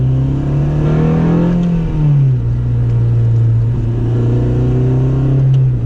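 A tuned Honda Civic Si engine revs hard and climbs smoothly through the RPMs, then settles into a steady, loud drone close by, with no one talking over it.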